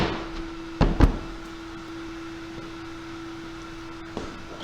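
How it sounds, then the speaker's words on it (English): Two quick close thumps as an X-Carve CNC enclosure door is pushed shut, then a lighter knock later, over the steady hum of the running spindle. "Make sure you push the door all the way in."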